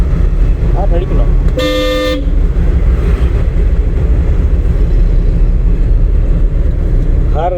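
A driving-school car's horn blares once in a loud, sustained honk during a driving lesson, amid steady road and engine noise, with voices talking around it.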